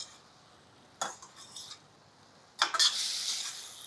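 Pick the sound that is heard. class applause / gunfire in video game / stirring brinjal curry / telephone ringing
stirring brinjal curry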